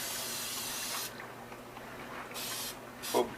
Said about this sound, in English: Spraying a pan.